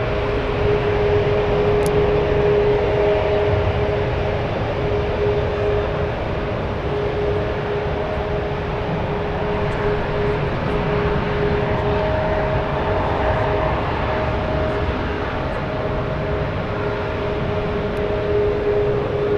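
Executive jets at San Francisco International Airport, a steady broad roar with faint tonal engine whine held throughout at moderate distance, no voices.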